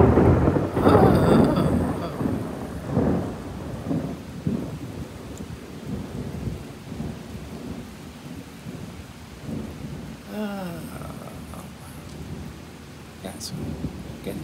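A night thunderstorm with heavy rain heard from a balcony during a heatwave, a loud rolling thunder rumble at the start fading into steady rain, with a brief voice later.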